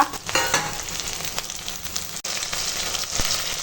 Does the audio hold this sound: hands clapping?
no